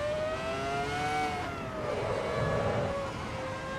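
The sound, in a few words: Ferrari F2004 V10 engine in Assetto Corsa EVO video game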